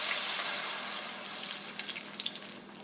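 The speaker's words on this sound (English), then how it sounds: "what I've got here is just a little bit of vinegar and water, and you want to put that in." Vinegar and water poured into a hot pan of braising pork, a burst of sizzling hiss that is loudest at first and then fades into a soft, crackling simmer.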